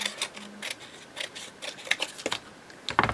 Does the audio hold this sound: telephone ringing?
no